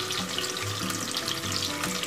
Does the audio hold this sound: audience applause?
no